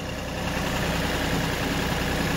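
A Kioti NX4510 HST tractor engine runs steadily at low RPM while scooping and lifting a heap of material, a constant even rumble with no talking.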